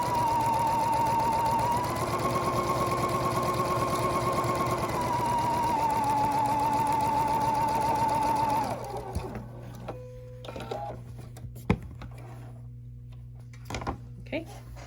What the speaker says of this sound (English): And then I'm going to sew that 1/4 inch seam again.